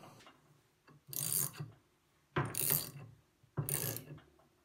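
An internal pipe wrench is tightened inside 3/4 inch pipe, producing three separate bursts of metallic ratcheting and grinding, each about a second long, with quiet pauses between them and no speech.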